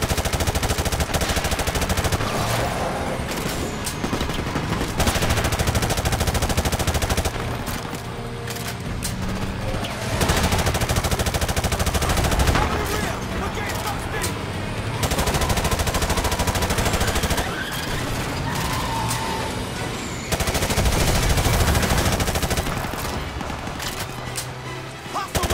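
Gunfire in the video game Call of Duty: Modern Warfare Remastered, with dense bursts of automatic rifle fire and shots in rapid volleys over a busy battle soundscape, loud and nearly continuous, with brief pauses between bursts.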